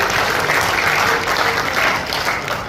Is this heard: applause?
yes